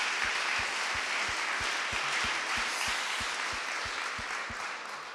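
Conference audience applauds at the close of a school equality colloquium, a dense, steady wash of many hands clapping that stays loud throughout and fades slightly at the end, with a faint rhythmic thumping beneath it.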